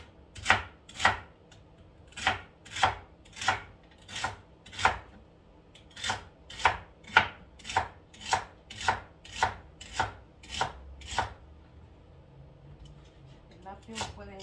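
A knife cuts celery for alphabet soup with about seventeen crisp, evenly spaced chops on a cutting board. The strikes are close and clear, and a short pause splits them into two runs.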